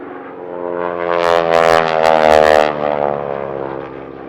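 Super Stearman PT-17 biplane modified with a 450 horsepower engine flying an aerobatic display at the Wings over Houston air show, its propeller engine droning loudly as it passes overhead, swelling and fading.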